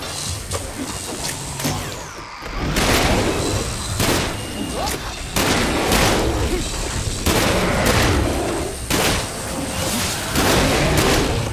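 Gunfire in the video game Sunset Overdrive, with repeated loud bursts and heavy thumps across a dense, booming battle soundscape that stays busy and loud throughout.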